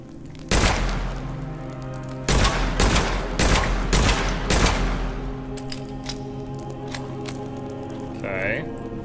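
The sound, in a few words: hand cannon firing in video game Witchfire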